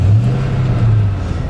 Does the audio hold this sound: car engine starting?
yes